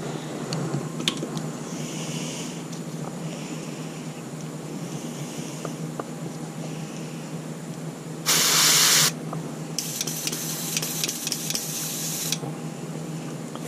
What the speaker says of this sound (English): As long as I can get a decent spray on it, should be all right.